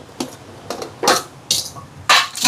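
Onion and garlic are pounded for sambal in a mortar, five sharp, close thuds spaced about half a second apart, each with a brief gritty crunch.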